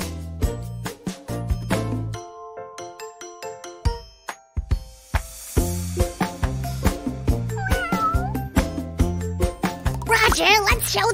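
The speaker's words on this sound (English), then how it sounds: "What does the kitten say? That's right! Meow!" Meowing cat sounds mixed into bright, bouncy children's music with plinking melody and chimes, in a mermaid doll craft setting, the meows cutting through the layered tune and sharp percussive hits.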